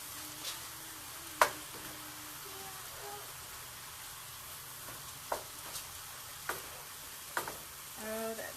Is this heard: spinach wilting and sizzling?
yes